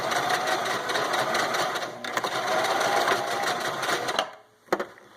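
A sewing machine stitches down the hem of a fabric harp bag in a fast, steady whirring run, near and loud, then stops abruptly with a couple of brief clicks afterward.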